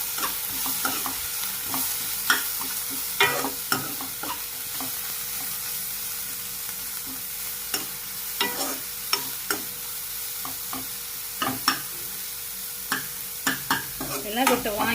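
Crushed garlic, ginger and curry leaves fry in oil in a pan for a jackfruit seed stir-fry, a constant close sizzle broken by frequent scraping taps of a spoon stirring, with no talk.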